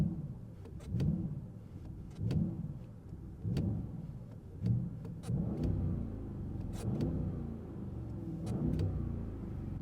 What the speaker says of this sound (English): Let me just give you a taste of this amazing engine